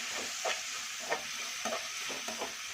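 Turmeric frying in a pan for raw mango chitranna sizzles steadily at a faint, even hiss, with soft spatula scrapes of stirring recurring every half second or so.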